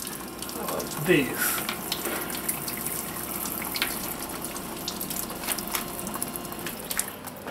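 Coolant gushing and splashing from the coolant hose of a Tormach PCNC1100 CNC milling machine, a running water hiss with a brief burst early on, and a few words spoken over it.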